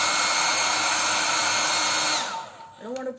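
A hair dryer blows a loud, steady whooshing whine over a painted craft notepad for about two seconds, then switches off. Its motor winds down, and a brief voice follows.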